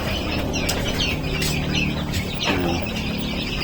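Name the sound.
brooding turkey hen clucking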